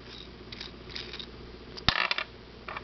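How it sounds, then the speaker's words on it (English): Metal nut spinning along the thread of a trick bolt, giving light metallic rattling and ticking, faint at first, then a sharper brief clatter near the end, close by with no talking. "here it is if you spin the nut, showing that the nut does in fact climb the thread even when it's going the wrong direction"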